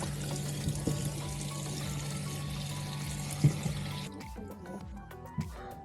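Tap water running over fresh Moroccan potatoes as they are washed in a motorhome kitchen, a steady close splashing stream with a few knocks, then the flow cuts off, leaving scattered drips and clatter.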